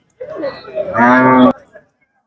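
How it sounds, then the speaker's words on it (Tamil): Cattle at a busy livestock market where Jersey dairy cows are for sale, one close, loud moo rising in a single drawn-out call. "நிறைய மாடுகள் வந்திருக்கு"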